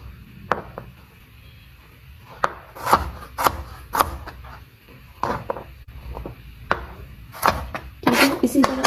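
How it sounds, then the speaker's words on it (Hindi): Fresh ginger is sliced into small pieces with a knife on a cutting board, with a steady series of crisp chopping taps up close, some louder than others. "जिंजर का पीस, इसको भी मैं छोटे स्लाइस कर लूँगी।"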